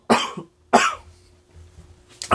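Two sharp, close coughs from a person getting over a cough, in quick succession, each a loud burst with a short tail, followed by a quiet breathy pause and the start of a third cough at the end.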